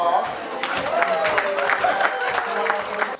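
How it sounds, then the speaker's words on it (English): An audience claps briefly at a life drawing session, a short burst of applause running steadily for a few seconds under a speaking voice. "A round of applause for her."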